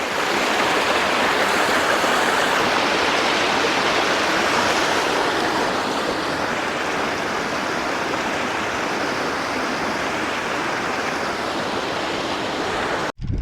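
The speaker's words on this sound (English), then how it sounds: "There's a really lovely set of waterfalls coming down Scales Beck." A set of waterfalls pours down Scales Beck on a fell, making a steady, loud, unbroken rush of water from close by that continues throughout with no talking.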